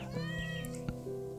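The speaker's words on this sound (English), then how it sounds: "My lovely cat Sandy is here." A cat meows close by, with a drawn-out tonal call and a short second meow in a quiet indoor room.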